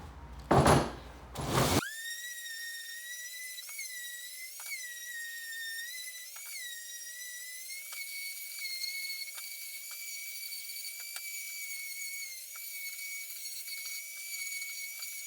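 A power sander running on the wooden edges of a shop cleaning station, a steady high whining drone after a brief knock at the start, with small repeated dips and ticks as the tool moves along the wood.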